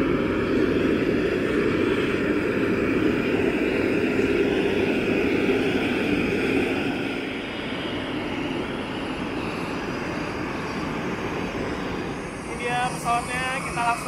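A steady propeller-engine drone from an ATR 72-500 turboprop airliner hums at close range on an airport apron in Pekanbaru, easing slightly partway through, with a brief voice near the end.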